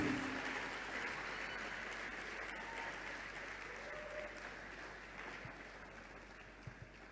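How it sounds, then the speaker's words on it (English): Audience applause filling a hall at a University of Lagos gathering, steady dense clapping from a large crowd that holds for the whole stretch and tapers only slightly, with a few louder claps near the end. "A round of applause, please, for her."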